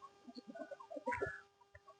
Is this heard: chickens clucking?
yes